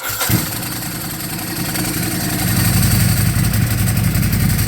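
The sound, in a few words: Ducati 999 motorcycle with Zard exhaust starting up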